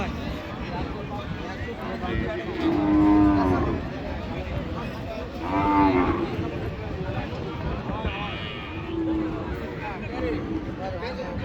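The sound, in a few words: cows mooing at cattle market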